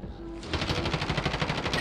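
Rapid automatic gunfire in Call of Duty: Warzone, a fast evenly spaced burst of shots following a brief lead-in, fairly faint and somewhat distant.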